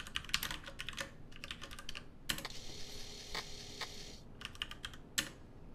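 Keys clatter on a Commodore 64 keyboard while typing in the SpeedScript word processor, coming in quick bursts with brief pauses and a few heavier key strikes, close and without speech.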